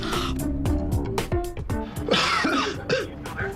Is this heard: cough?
yes